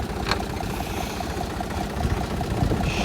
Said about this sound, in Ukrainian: Двигунчик робить непогано